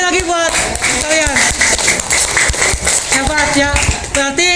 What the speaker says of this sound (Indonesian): tepuk tangan lah sekali lagi buat kalian